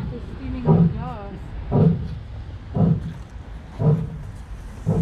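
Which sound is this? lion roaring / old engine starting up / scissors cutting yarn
lion roaring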